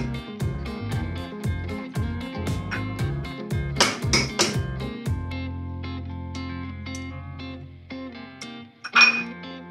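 Ginger pounded and crushed for a Peruvian chicken soup, a run of rapid clinking, knocking strikes against kitchenware, close and fairly loud, then a pause with a few lighter clinks and one sharp tap near the end.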